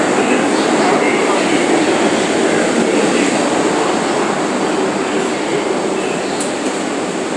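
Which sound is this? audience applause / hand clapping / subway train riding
subway train riding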